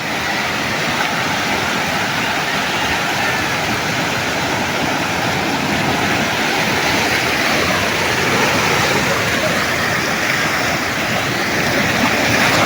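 Choppy sea waves wash along the shore on Occidental Mindoro under a strong northeast monsoon wind at night, forming a loud, continuous roar with no pauses.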